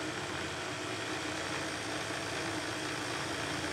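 Car engine running steadily during a charging test of an 8-volt electronic generator regulator conversion, a constant broadband hum with no audible rise in speed, alone and fairly loud throughout.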